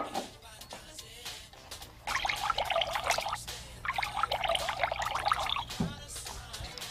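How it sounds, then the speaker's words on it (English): Water trickles and pours into a glass in two bursts, a steady splashing stream with a brief pause between, fairly close and moderately loud. "Pour some water into 2 identical glasses."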